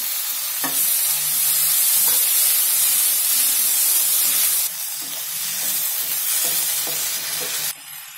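Ginger garlic paste sizzles in a hot pan for paneer butter masala, a loud, steady frying hiss with a few soft stirring clinks, and the sizzle eases slightly partway through.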